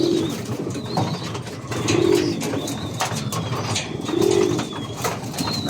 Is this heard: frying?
no